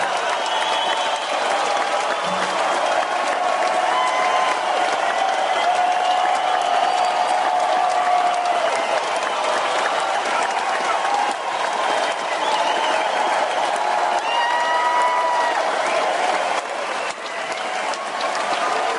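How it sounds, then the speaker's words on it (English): Audience clapping for a prize winner at a live event, a long, steady wash of applause lasting the whole stretch at moderate level, with faint voices and a tonal hum mixed beneath. "Keith, everybody give Keith a big, huge round of applause."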